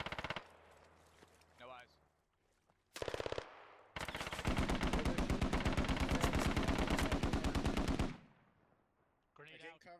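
Automatic gunfire in the military shooter Squad, opening with short bursts and then a long, loud, rapid stream of shots lasting several seconds, followed by a brief quiet stretch. Someone speaks a few words near the start and end.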